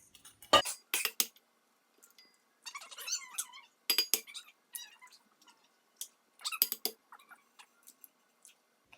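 Eggs are cracked one after another against a bowl for Hong Kong style egg tarts, giving sharp, close taps and clinks in short bursts with brief quiet gaps between them.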